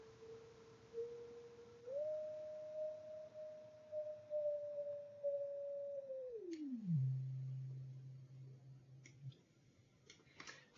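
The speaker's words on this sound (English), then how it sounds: "this frequency represented as a single red, green, blue, or grayscale balance. As a sine wave, of course." A faint synthetic sine tone generated from pixel color data holds steady, steps up, then glides down to a low hum before cutting off, with a few soft clicks afterward.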